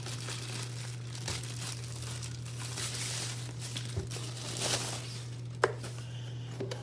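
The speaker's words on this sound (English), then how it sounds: "Take it out of the plastic, I should say." Plastic packaging crinkles softly and intermittently as a Monstrum Tactical Banshee 1-4x20 LPVO riflescope is unwrapped, with light rustles and one sharper crackle near the end over a faint steady hum.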